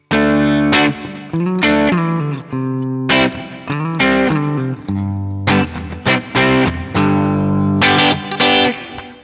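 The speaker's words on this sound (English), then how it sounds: "Nice big open 335 sound." A clean semi-hollow electric guitar in the style of a Gibson ES-335 with open humbuckers plays rich, ringing chords and picked notes in a loose rhythm, full and warm with a slight effect shimmer, close and alone.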